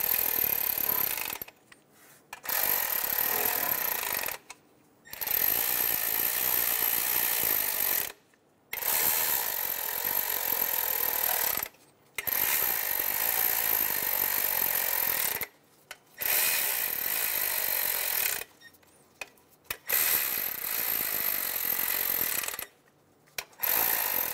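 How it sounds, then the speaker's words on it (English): Ratchet wrench snugging down the engine cover bolts on a 2003-2007 Honda Accord, rapid loud clicking in long bursts separated by short silences, close and with no one speaking. "We're going to snug our bolts down."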